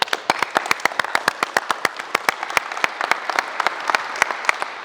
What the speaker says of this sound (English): Everybody clap it up for Aiden.